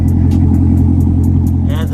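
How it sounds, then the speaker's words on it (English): A C7 Corvette with a 6.2-liter V8 and a muffler delete runs close by with a deep, loud, steady engine rumble throughout, ending with a brief higher mechanical whine. "I'm going to give you guys some revs and stuff right now. Let you guys hear what it sounds like with the muffler delete"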